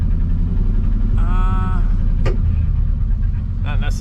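A 1940 Mercury engine idles very low in a steady, deep rumble throughout, with brief high whines and squeaks standing out over the drone.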